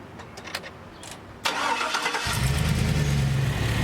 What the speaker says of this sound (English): start the Hummer, turn your AC on at full speed